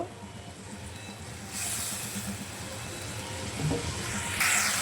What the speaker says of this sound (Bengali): এখন আমি মশলাটাকে সুন্দর করে কষিয়ে নেবো ভালো করে কষিয়ে নেব